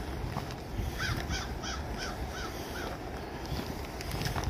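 A crow caws repeatedly, a run of about six evenly spaced calls at moderate distance over light wind, with no talking.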